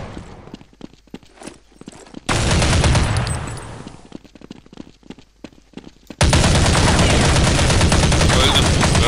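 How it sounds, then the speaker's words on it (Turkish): Gunfire in the online shooter Counter Strike Online, with sniper shots among it: sparse sharp shots and footsteps give way to two long, loud bursts of rapid automatic fire. "Sniper vuruyor ya."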